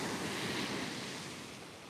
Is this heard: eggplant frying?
no